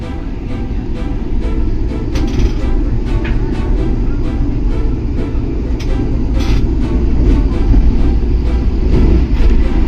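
Vande Bharat express train running at speed, heard from inside as a loud, continuous low rumble and roar with faint rattles and clicks, steady throughout with no talk.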